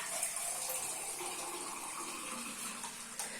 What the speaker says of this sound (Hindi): तब तक ये जो यखनी है ये भी काम की, इसी में मैगी बनाएंगे। इसमें पानी भी और डाल लेते हैं।